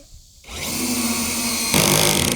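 A power drill drives a screw into used metal roofing, a quiet start then a sudden rising whine that holds steady and climbs louder near the end, close and alone.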